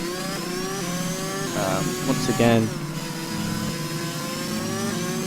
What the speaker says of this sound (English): I think it's the engine, the helicopter, the issues with the game audio with the helicopters flying so close to me